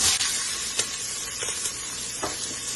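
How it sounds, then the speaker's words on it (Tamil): Onion and green chilli frying in a pan, a steady broadband sizzle with a few soft stirring scrapes, close and continuous, no voices. "இப்போ வெங்காயம், பச்சை மிளகாய் சேர்த்துக்கணும்."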